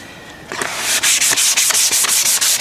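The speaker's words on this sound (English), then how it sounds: "the next thing we're going to do is give it a light sand" Light hand sanding on the finished handle of a vintage axe, rake or sledge hammer: a steady series of close, loud rasping strokes in a regular back-and-forth rhythm after a brief quiet start.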